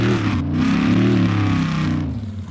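A synthesized V8 car engine in a racing video game demo revs loud and close, its pitch rising and falling smoothly in a continuous drone.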